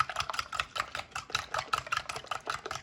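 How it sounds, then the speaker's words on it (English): Six eggs are beaten by hand in a bowl with a whisk or fork, a fast, regular clicking and tapping rhythm of strokes, close and distinct, with no talk. "I'm going to beat the 6 eggs, and it's great to do it by hand"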